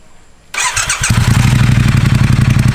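A Triumph Thruxton motorcycle engine cranks briefly and then catches, settling straight into a loud, close, throbbing idle that runs steadily to the end.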